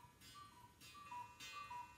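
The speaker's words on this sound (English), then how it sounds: "My cuckoo is actually on time." A cuckoo clock strikes twelve, its faint two-note calls repeating at an even pace in a quiet room with no talking.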